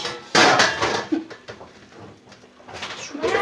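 Dishes and metal clatter sharply as food is moved onto a tray, a loud crash at the start followed by lighter clinks and knocks, with a brief voice and a bird's coo nearby.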